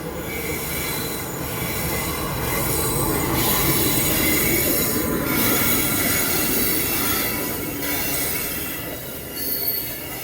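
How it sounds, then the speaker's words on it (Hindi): Bareilly Varanasi Express arriving at Shahganj Junction, with loud, continuous metallic wheel squeal over the rumble of rolling railcars, rising and falling as the coaches pass close by. "सामने से अराइवल ले रही है बरेली वाराणसी एक्सप्रेस"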